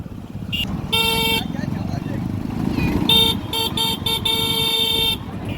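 Busy street traffic near Nageshwar with repeated car horn honks, some short and some long, over a steady rumble of engines and motorbikes, while people talk nearby.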